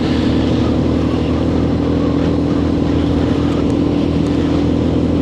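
A Lexmoto RSS motorcycle being ridden on a test ride: a loud, steady engine drone with rushing wind noise that holds constant throughout, with no talking.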